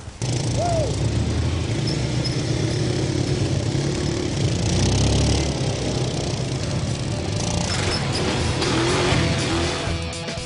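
A quad bike engine runs steadily and loud for about ten seconds, its revs rising and falling slightly, with faint speech underneath.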